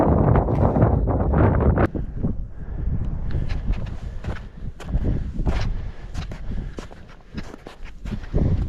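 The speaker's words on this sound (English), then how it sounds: "A little breezy, but not too bad." Wind buffets the microphone on a high mountain trail just below Forester Pass at over 13,000 feet, a loud steady rumble with gusts, rustling and what may be footsteps, with no talking.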